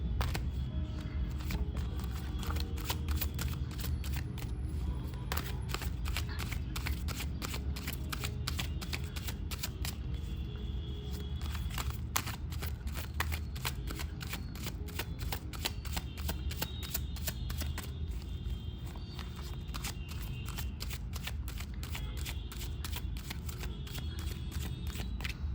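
Tarot cards are shuffled from two decks in a long, steady run of crisp, rapid riffling flicks, close and continuous with no talk.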